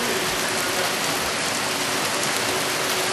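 Heavy rain pours steadily during a storm with hail and lightning in Downey, California, a loud, dense wash of drops hitting outdoor surfaces close by, continuous throughout with no voices.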